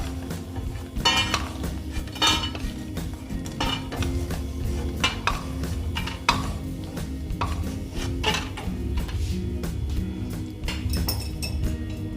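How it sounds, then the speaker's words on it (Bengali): Fried lentil dumplings (bori) being lifted out of hot frying oil bring repeated metallic scrapes and clinks of a utensil against the pan, with a low background hum running throughout. "আমি বড়িটা ভেজে নিলাম এবার আমি বড়িগুলো তুলে নিচ্ছি"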